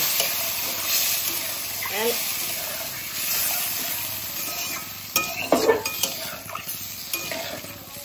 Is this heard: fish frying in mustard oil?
yes